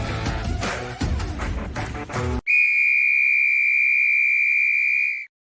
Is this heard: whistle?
yes